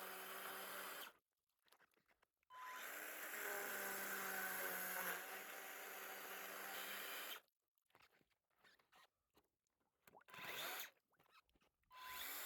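A Makita power drill boring through thick pond ice: long, steady whirring runs broken by short pauses and quieter stops, nearby and fairly loud with no talk.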